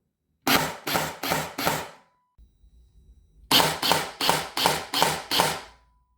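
A Specna Arms SA-E06 EDGE 2.0 airsoft rifle fires single BBs in quick crisp shots, four in a fast string, a short pause with faint handling noise, then six more evenly spaced shots, loud and close.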